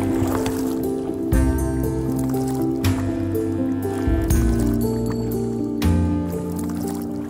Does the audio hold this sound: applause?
no